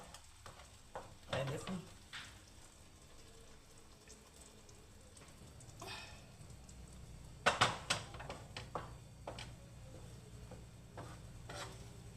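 Food is stirred in a cooking pan, quiet scrapes and a soft sizzle with a cluster of sharper scraping knocks partway through, all fairly faint.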